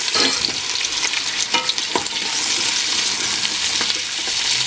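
Potatoes and carrots sauté in a pot with butter, onion and garlic, a dense steady sizzle with scraping and a few knocks as the vegetables are stirred.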